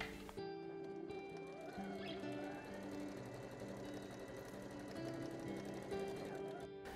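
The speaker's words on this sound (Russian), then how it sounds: "срезы обметываем" An overlocker finishing the cut fabric edges of a child's dress, a continuous rapid mechanical chatter running steadily throughout at close range, faint overall and with no talking.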